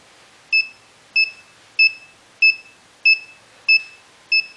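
An Arduino buzzer wired with two alternately blinking LEDs gives seven short, clear, high beeps at a steady, evenly spaced rhythm, loud and alone against near silence.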